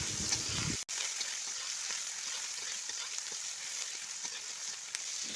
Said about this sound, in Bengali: পেঁয়াজটা একটুখানি নাড়াচাড়া করে আমি ভাজা ভাজা করে নেব